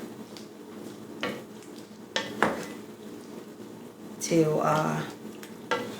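Pork adobo nuggets cooking slowly in a pan, with a quiet sizzle under scattered clinks of utensils against the pan and a brief voice.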